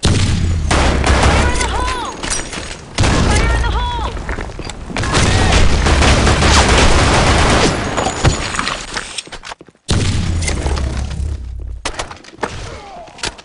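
Dense, loud gunfire in the online shooter BlackShot, with booming shots and rapid bursts layered almost continuously, cut by a brief gap near the end, while players' voices mix in.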